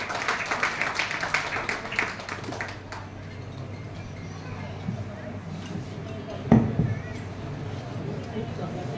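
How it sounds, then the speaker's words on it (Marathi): An audience claps to welcome a speaker at the Anubhav Pratishthan Anubhav Ratna award ceremony in 2025. The applause is moderately loud for about three seconds, then fades into a quieter room with a voice and a single sharp knock. "जोरात टाळ्या वाजवून त्यांचं स्वागत करावं"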